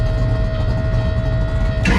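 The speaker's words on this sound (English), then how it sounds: "That noise that you hear is a scavenge pump that returns oil from the turbo back to the engine." A scavenge pump on a 2500hp G-body drag car returns turbo oil to the engine with a steady, close mechanical whine and buzz, running continuously before a brief rise at the end.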